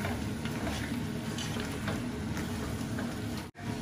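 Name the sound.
stirring akhni rice while it cooks in a pot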